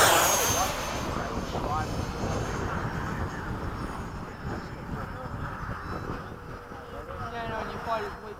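Freewing F-5 and FMS Hawk 80mm electric ducted-fan RC jets fly at a model airfield, their steady turbine-like whine passing and fading, loud at first then softer, with people chatting throughout.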